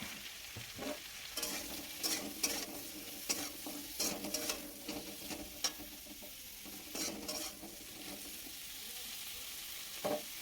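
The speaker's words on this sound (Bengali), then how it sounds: "দেখো সবজিগুলো কিন্তু আমার সুন্দরভাবে ভাজা হয়ে গিয়েছে" Eggplant, potato and radish fry in a pan for a winter hilsa curry, a loud continuous sizzle with repeated stirring clacks and scrapes, heard up close with no talking.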